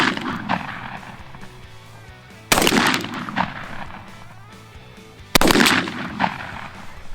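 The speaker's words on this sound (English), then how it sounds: "I'm going to put in my Carlson Competition cylinder choke tube, and then take shots at 10, 30, and 50 again" Two loud shotgun blasts fired with a Carlson Competition cylinder choke tube, spaced a few seconds apart outdoors, each sharp report trailing into a short echo over a low background.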